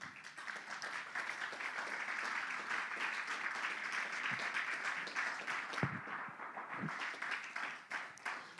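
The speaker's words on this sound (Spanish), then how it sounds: "Un aplauso al Señor." Church congregation applauding at a service, steady clapping for several seconds with a few sharper claps near the end and a faint voice in the background.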